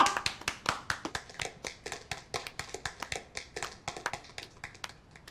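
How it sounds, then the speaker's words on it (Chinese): A small group claps by hand in sharp, irregular bursts that continue steadily throughout, moderately quiet and with no talking over it. "鼓掌。"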